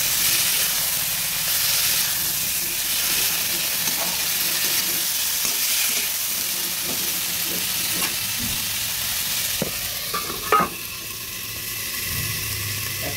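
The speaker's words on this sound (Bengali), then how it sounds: "এবার একসঙ্গে আর বরবটিগুলো হালকা আছে একটু ভেজে নেব" Long beans and potatoes frying together in a pan for a vegetarian curry, a steady close sizzle and hiss with occasional scraping stir clicks, no voices.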